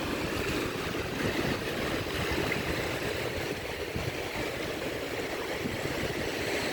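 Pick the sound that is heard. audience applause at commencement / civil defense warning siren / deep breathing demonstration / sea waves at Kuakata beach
sea waves at Kuakata beach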